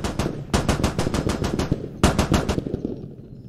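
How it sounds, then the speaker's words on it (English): Armoured vehicle cannon firing in the Squad video game: rapid bursts of loud, close automatic shots in two volleys, with a brief pause between them and a fading tail at the end. "Keep firing, you're hurting it."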